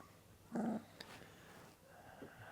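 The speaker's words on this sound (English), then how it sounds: "Look at him, he's growling." A low, brief dog growl close by, then a quiet stretch with faint rustling.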